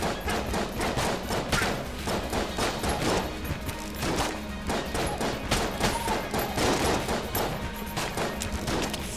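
Rapid, continuous gunfire fills the scene while shooting a giant bat enemy in Enter the Gungeon, a dense barrage of overlapping shots and impacts that runs steadily from start to finish with no talking.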